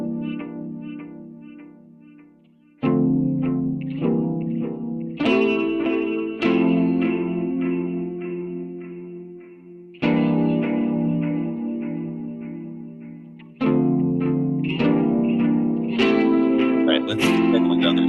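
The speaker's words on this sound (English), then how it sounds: "But you can really hear the guitar" Electric guitar played with a pick through chorus and distortion effects in an arrangement of Lili Boulanger's Psaume CXXIX: sustained, shimmering chords with sharp pick attacks at each change, loud and reverberant, with no one talking.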